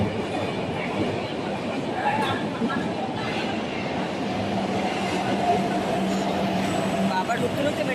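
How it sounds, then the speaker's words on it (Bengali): A metro train pulls into the station with a continuous, even rumble of wheels and motors, moderately close and steady throughout, faint station bustle underneath. "আবার ঢুকতে ঢুকতে মেট্রো চলে এসেছে।"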